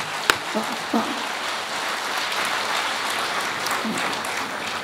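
A large audience at a Hindi comedy poetry gathering breaks into sustained, dense applause that hisses like rain, steady and loud throughout with a few sharper claps near the start.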